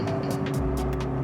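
McLaren MP4-12C supercar engine droning while driving, a steady, loud low hum with a deeper note rising partway through, continuous and without pauses.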